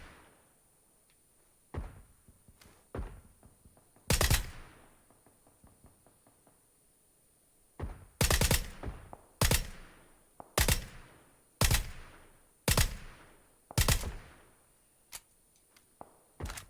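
A long-range rifle firing in PUBG training mode on Xbox One: sharp, loud single shots spaced irregularly, then a steadier series of about eight reports roughly a second apart, each with a short decaying echo.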